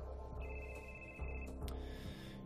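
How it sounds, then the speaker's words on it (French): After an emergency number is dialed, a telephone rings in a steady repeating electronic tone at low volume, with no talk. "attendez, je vais composer le numéro"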